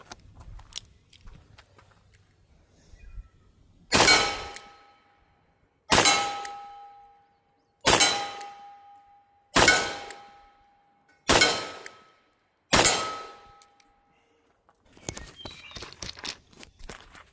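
Six loud metallic clangs from .357 Magnum bullets striking a steel gong about 20 yards out at an outdoor range, spaced roughly two seconds apart, each ringing briefly with a sustained tone before decaying, with faint background noise.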